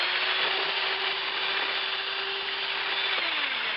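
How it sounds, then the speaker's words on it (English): A power drill mixing pottery glaze whirs steadily and continuously, a constant mechanical drone close by, with a slight drop in pitch near the end. "put the drill in there"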